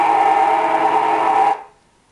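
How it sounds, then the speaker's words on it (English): A remote control button held down, its infrared signal rendered audible by an ultrasonic bat detector as a steady, loud electronic buzz. The buzz runs unbroken, then cuts off abruptly, leaving quiet. "Or this remote control, if you press any button, it sounds like this."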